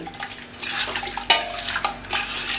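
Spices being mixed into beef in a pot for tawa boti, close scraping and clanking of a spoon against the metal in uneven strokes, with a louder knock partway through and no talking.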